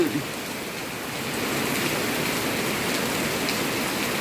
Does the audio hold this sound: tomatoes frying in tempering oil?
no